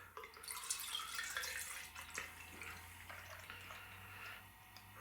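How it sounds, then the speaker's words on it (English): Peace Tree beer is poured into a glass, a quiet trickling and splashing with small drips and clinks, faint and close throughout. "we're gonna go ahead and pour this lovely beer."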